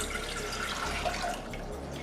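About two cups of water are poured into a pot for ginger lemon honey tea, giving a steady, close splashing and trickling stream.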